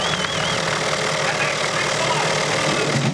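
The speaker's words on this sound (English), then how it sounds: "Gentlemen, start your engines." Several CART champ car engines at the 2000 Cleveland Grand Prix rumble steadily at idle after starting, forming a dense, continuous mechanical roar that stays constant throughout.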